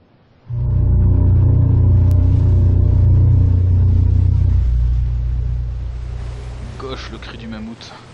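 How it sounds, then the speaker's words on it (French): A mammoth's cry in the video game Syberia II: a deep, sustained roaring rumble swells up suddenly and holds for several seconds before fading, with rushing wind-like noise and faint chirps near the end. "Le cri du mammouth."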